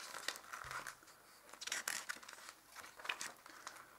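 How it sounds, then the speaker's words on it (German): Stiff, sturdy pages of a limited mediabook edition of the 1978 film Piranhas are flipped one after another, giving quiet papery crinkles and soft swishes close up. "Und dann blättern wir einfach mal durch das Mediabook durch."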